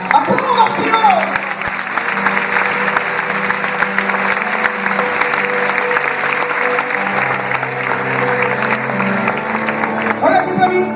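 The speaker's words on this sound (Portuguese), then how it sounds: "Aplauda, Senhor!" A church congregation at an evangelical worship service claps loudly and continuously, a dense wash of applause over sustained low musical tones, with no clear speech.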